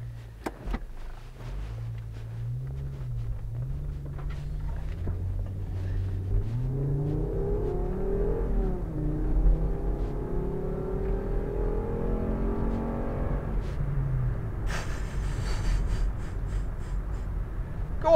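A Volvo V70 with a 2.4-litre naturally aspirated engine driving on the road, its grumbling engine note rising as it accelerates and holding a steady rumble, with a brief higher whine near the end.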